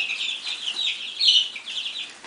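A dense chorus of high, shrill cheeping from many baby chicks, continuous and close, with no voices.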